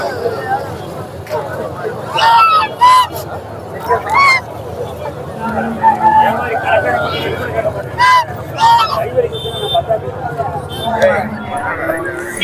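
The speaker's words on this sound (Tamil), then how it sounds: "இங்கே பார்த்தீங்கன்னா வாத்தும் கிடைக்குது வாத்து பாருங்களேன்" Ducks quack and honk repeatedly amid a busy outdoor Sunday market crowd near Simmakkal, with people chattering throughout and the calls rising over the background babble.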